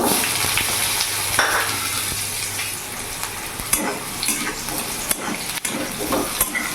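Potatoes fry in hot oil in a pan for a vegetarian banana-flower dish, giving a close, continuous sizzle broken by scraping stirs and a few utensil knocks.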